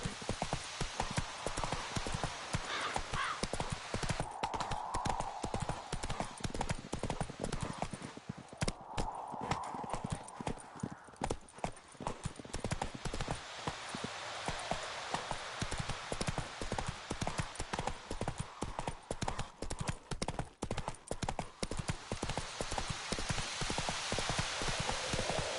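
Roach, the horse in The Witcher 3: The Wild Hunt, gallops with a rapid, steady clip-clop of hooves over a soft hiss like rain, continuing throughout.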